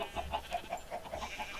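Minecraft chickens cluck in a quick, even series of short, faint clucks, about five per second, with no voices over them.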